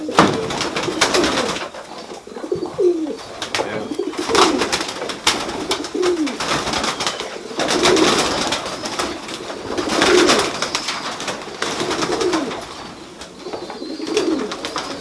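Several tippler pigeons coo repeatedly at close range, soft throaty calls recurring every couple of seconds over rustling background noise.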